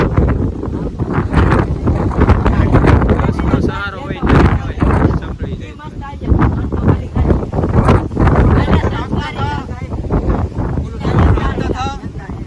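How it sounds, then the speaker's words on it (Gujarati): Strong gusty wind on Sana Dungar hill buffets the microphone in rough, booming surges, loud and close, while someone talks over it. "પવન બહુ જ છે હો."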